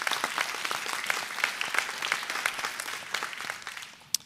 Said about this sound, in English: Let's give President Bell this round of applause for that.